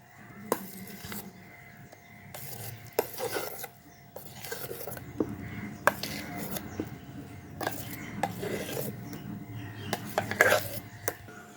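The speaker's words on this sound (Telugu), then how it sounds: "ఈ వరిపిండి మినపిండి కలుపుతానేమ్మా" Urad flour and rice flour being mixed by hand in a bowl, a repeated close rasping and rubbing with light scrapes against the bowl, uneven in rhythm, with occasional quiet talk.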